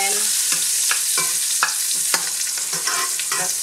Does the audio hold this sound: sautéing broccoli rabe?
yes